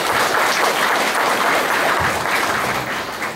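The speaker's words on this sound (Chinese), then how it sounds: "我们再次掌声鼓励，谢谢我们刘博士" Applause for a speaker at the end of a lecture, a dense, steady crowd clapping that stays strong and tapers slightly toward the end.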